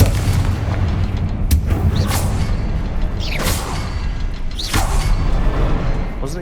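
Repeated fiery blasts from the Confringo spell in Hogwarts Legacy, several loud booming explosions with whooshing bursts over a dense, continuous roar of combat.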